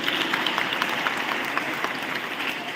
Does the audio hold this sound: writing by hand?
no